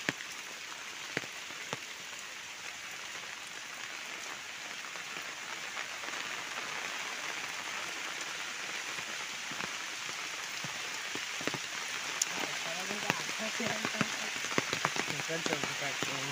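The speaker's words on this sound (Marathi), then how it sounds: "इकडं पाऊस आलाय तो" Steady rain patters on a surface throughout, a soft continuous hiss with occasional louder drops, faint and fairly distant.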